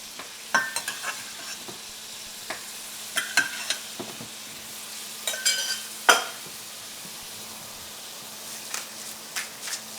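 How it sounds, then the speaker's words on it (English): Brussels sprouts frying in butter in a pan, with a soft sizzle broken by scattered clicks and pops as they are stirred and moved about, close by and with no talking. "Heated up my Brussels sprouts, put them in the butter."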